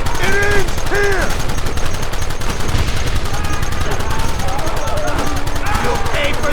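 A shootout in the Red Dead Redemption video game: loud, rapid gunfire crackles almost nonstop, with shouting voices cutting in over the shots.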